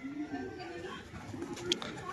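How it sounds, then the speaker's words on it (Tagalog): Soft cooing from a racing pigeon arriving at its loft after a 123 km training flight from Atimonan, Quezon, heard close among quiet background sounds and murmuring voices. "Yan, dyan talaga baba ng ibon natin, no?"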